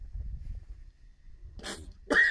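Two quick, close sneezes, the second louder and sharper, breaking through low background rumble.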